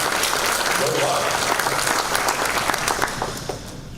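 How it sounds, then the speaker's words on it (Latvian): Sustained applause from an audience at a TSI education ceremony honouring Aleksandrs, a dense steady wash of clapping lasting throughout and thinning slightly toward the end. "No sirds novēlam un aplausu Aleksandram."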